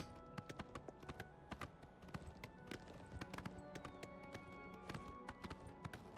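Horse hooves clip-clop steadily in the video game Oblivion Remastered. Many crisp, evenly spaced hoof strikes keep a trotting rhythm over a soft ambient bed, quiet overall.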